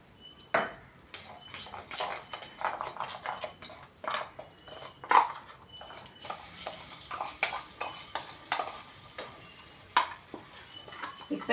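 Sardines cooking in a pan with curry leaves, turmeric and chili powder, heard mostly as metal utensil clatter and stirring scrapes with a light sizzle underneath, repeated knocks and taps throughout.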